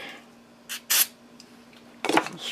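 Carb cleaner sprayed from an aerosol can onto screw threads during assembly of a Kawasaki 750 two-stroke engine: a few short hissing bursts, one near the middle and a longer one at the end, with faint rustling between.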